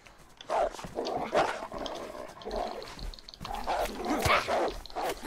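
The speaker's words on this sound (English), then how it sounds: "I fucking hate these dogs so goddamn much right now" Wolves attacking in the video game DayZ, growling and snarling bursts at moderate distance amid scuffling noise, with no one talking over it.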